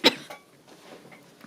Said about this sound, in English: I only cough when I'm on camera.